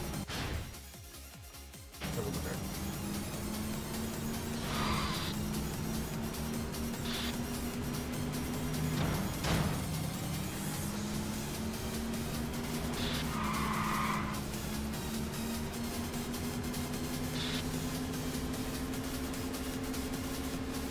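Cars drag racing in the video game Yakuza 5, with a sustained engine drone and repeated tire skids and squeals, loud and continuous after a brief quieter opening.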